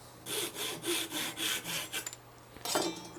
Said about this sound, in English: So I need to cut myself a couple of these 1/4 inch dowel rods